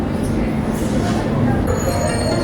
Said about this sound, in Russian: Напоследок мы еще раз насладились романтикой и звуками подземки